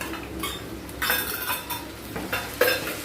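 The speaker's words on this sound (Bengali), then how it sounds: "টমেটো দিয়ে একটু নাড়াচাড়া করব।" Tomatoes are stirred into frying onions in a pan: repeated metal spatula scrapes and clinks over a soft sizzle, close and fairly loud, with no speech.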